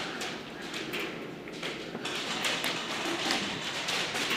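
Airsoft guns firing during an indoor team skirmish produce a scattered series of light, sharp taps and clicks over a noisy background, fairly close.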